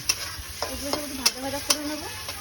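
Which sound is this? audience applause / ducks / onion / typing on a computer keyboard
onion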